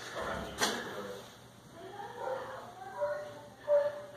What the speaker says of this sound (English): More kittens.